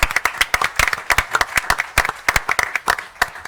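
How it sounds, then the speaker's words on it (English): Several people clap in a brief burst of applause at a town council meeting, a dense close-up patter of hand claps with no voices over it. "a round of applause for the outstanding work"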